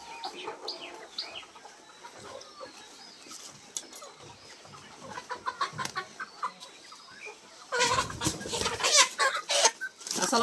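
Layer pullet chickens, 134-day-old ready-to-lay birds on a farm, cluck and chatter steadily at close range, with a louder, denser burst of flock calls near the end and no talking.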